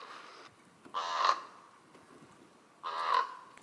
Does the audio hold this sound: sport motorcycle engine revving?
no